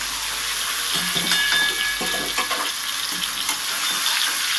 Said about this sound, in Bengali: এবার ঝিঙেটা দিয়ে দু মিনিট নেড়ে চেড়ে কুমড়োটার সাথে ভেজে নেব